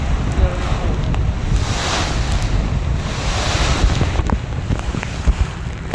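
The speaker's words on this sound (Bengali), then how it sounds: "আর আপনারা শুনতে পাচ্ছেন কি পরিমাণ এক একটা ঢেউ," Strong river waves slosh and crash around a passenger launch in a storm, with heavy wind buffeting the microphone in a constant loud roar and occasional sharper splashes.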